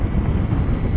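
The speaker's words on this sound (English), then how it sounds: "Wow, so this motor revs really high." A Lightning Strike electric motorcycle spins its motor up to high revs on the freeway, with a steady, loud rush of wind and drivetrain noise and a thin high whine running through it.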